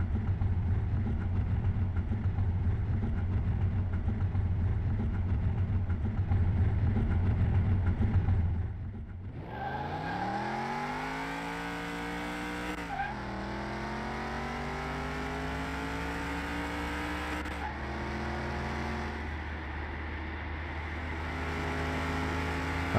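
A tuned 1965 Cadillac Coupe DeVille engine in Car Mechanic Simulator roars at high speed during a top-speed test, first a steady drone, then a shift and a climbing rev that rises through further gears, loud and alone.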